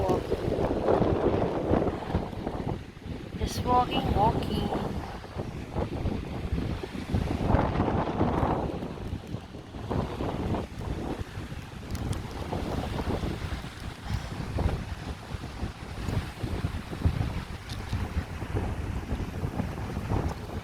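Wind buffets the microphone in steady gusts beside open water at Victoria Point, with waves and a boat engine rumbling underneath and faint voices now and then.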